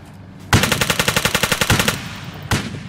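Automatic gunfire in the WWII shooter Easy Red: a sustained burst of rapid, evenly spaced shots lasting about a second and a half, followed after a pause by one more loud report, with no talking.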